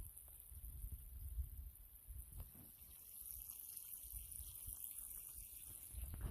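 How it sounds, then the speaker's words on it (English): A garden hose runs water into freshly dug planting holes for trees, a quiet continuous splashing and trickling rush outdoors with no talk. "we'll get those holes watered up and soaked down real good"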